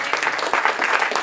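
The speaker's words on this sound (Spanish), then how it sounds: "¿Cuánto le damos un aplauso a Jesús ahora?" A church congregation claps together in a brief burst of applause, many hands striking in quick, overlapping rhythm, loud and close for just over a second.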